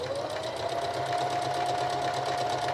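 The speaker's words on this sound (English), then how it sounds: "put this in the machine, lower the foot, and now I'm going to sew a little bit" A sewing machine runs continuously at close range as it stitches fabric, giving an even, humming motor whir with a fast rhythmic needle chatter and no pauses.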